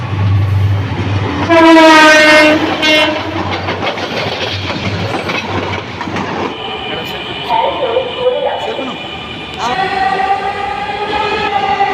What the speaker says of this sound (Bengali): ট্রেন এসে পড়েছে। এখন ট্রেনে উঠে যাব আমরা।